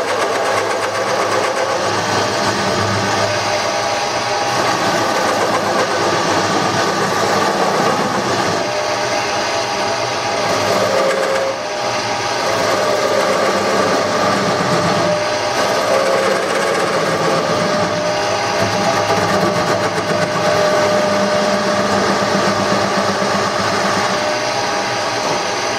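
Wood lathe running continuously while turning an ambrosia wood tool handle, a loud, steady mechanical drone with rumbling, rattling texture throughout and no talking.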